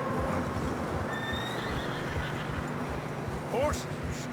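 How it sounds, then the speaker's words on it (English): A horse in Red Dead Redemption 2 whinnies briefly near the end while struggling through fresh snow, rising and falling over a steady rumble of wind and movement, with a few faint higher calls earlier. "Horses are struggling."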